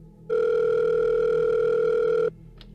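A telephone sounds a single sustained electronic tone lasting about two seconds, loud and steady, then stops abruptly, leaving a quiet room.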